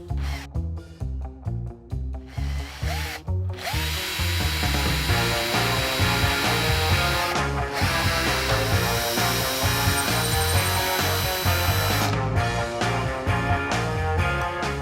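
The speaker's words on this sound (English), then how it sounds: "And I can very accurately drill these holes." A power drill works through a guitar body, boring holes for the tremolo spring claw. The motor whines in repeated bursts at first and then runs in a long continuous grind, close and fairly loud.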